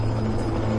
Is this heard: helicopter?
yes